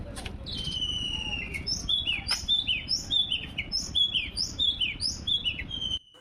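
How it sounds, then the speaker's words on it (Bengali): An oriental magpie-robin sings outdoors in a series of clear, repeated whistled phrases and chirps, fairly close and rhythmic over a low background rumble, with no talking. "বাইরে কিন্তু খুব সুন্দর মিষ্টি একটা দোয়েল পাখির ডাক শোনা যাচ্ছিল"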